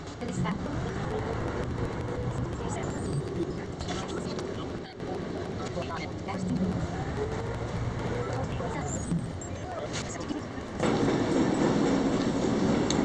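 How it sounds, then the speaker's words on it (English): An airport plane train departs and rides along, a continuous rumbling rail roll with rattles and squeals, close and steady, briefly louder near the end as the car gathers motion. "This train is departing."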